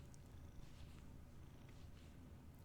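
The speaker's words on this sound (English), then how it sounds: "she's definitely purring really loud" A cat purrs steadily and softly up close, a low continuous rumble with no voices over it.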